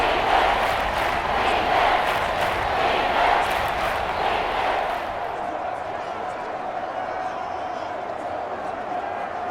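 Stadium crowd roar during a Madden 25 Raiders versus Commanders football game, a loud, steady wash of noise that eases slightly partway through, with commentary voices underneath.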